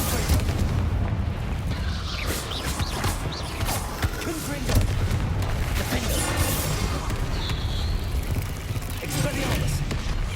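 Bombarda explosion spells cast repeatedly in Hogwarts Legacy, producing booming blasts and crackling magical impacts over ongoing combat noise, while a voice speaks throughout.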